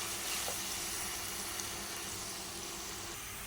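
Onions, garlic, green chilies and fenugreek seeds fry in a pan with a continuous, moderately loud sizzling hiss that holds steady, close and free of voices.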